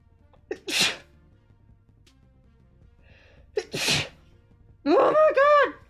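Two separate sneezes a few seconds apart, each with a short inhaled build-up and a sharp burst, followed by a person's quick spoken reaction; close and loud in a quiet room.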